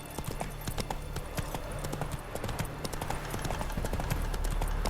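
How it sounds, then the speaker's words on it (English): A horse's hooves clip-clop in The Witcher 3 game, a steady quick trotting rhythm over a low ambient bed, close and fairly faint. "Whoa there, Roach."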